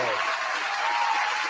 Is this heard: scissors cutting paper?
no